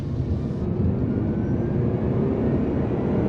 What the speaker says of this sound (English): Driving the new Prius Prime plug-in hybrid.